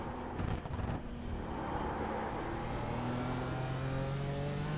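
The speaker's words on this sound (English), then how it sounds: "so let me know if you're hearing the engine noise" A race car engine in the iRacing game, heard from the cockpit, drones steadily at moderate volume with rising pitch as it accelerates through the gears, with no talking over it.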